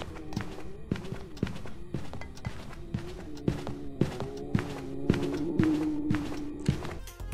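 Footsteps of a demon ghost hunting in the video game Phasmophobia, a quick run of heavy thudding steps at a steady pace over a low droning ambience, moderately close.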